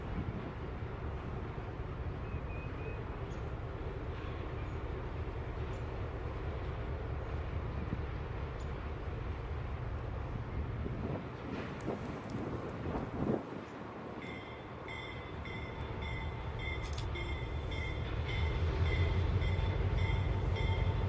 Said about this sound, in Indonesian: lokomotif 105 ini sedang dalam perjalanan dari Devian, Ohio, ke Secil, untuk mengambil serangkaian gerbong box